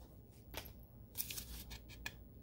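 Quiet, close scissor snips and crinkly cutting sounds as a mail package is cut open, several short bursts in a row against a faint background hum.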